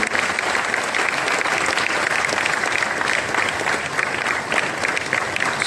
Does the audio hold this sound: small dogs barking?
no